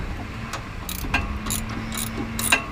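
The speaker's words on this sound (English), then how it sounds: "Just tighten the bolt." A hand ratchet tightens a sway bar bolt on a vehicle, giving several quick bursts of sharp clicking a fraction of a second apart, close and clear over a low background hum.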